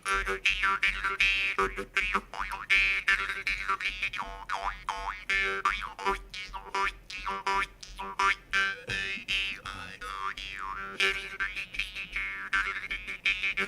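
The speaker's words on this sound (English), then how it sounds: "We need some jaw harp here at this gala." A jaw harp twangs continuously with a bouncy, wah-like rhythm at a summer gala fundraiser, its buzzing drone shifting in tone as the pattern repeats.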